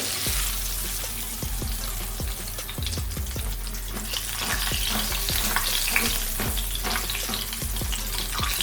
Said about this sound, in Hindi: अच्छे से इनको फ्राई कर लेंगे, गोल्डन सा कलर आ जाएगा